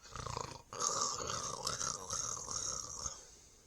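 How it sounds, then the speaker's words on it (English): A newborn puppy with breathing problems makes noisy, laboured, wheezy breaths, a soft rasping whine rising and falling over a few seconds, close and quiet. "Now this one's got some breathing issues, but it's kind of endearing."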